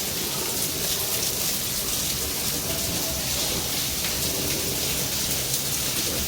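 Heavy rain pours steadily outside on a Sunday in a deserted market, a constant loud dense wash of rainfall with no break and no voices.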